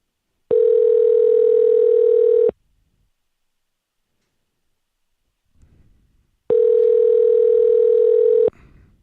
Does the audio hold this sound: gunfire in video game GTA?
no